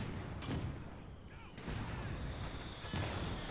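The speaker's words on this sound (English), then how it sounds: "There's just so much artillery that the Wehrmacht's units are dying before they can even engage" Repeated mortar and artillery blasts from a Company of Heroes 2 battle thump and boom in dense, overlapping bursts, with broadband crashes roughly every second under a steady low rumble of battle noise.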